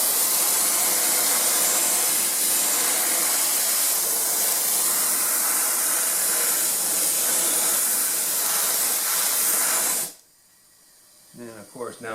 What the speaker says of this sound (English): you're going to want to use some good glue, either good spray glue like this or spread-on glue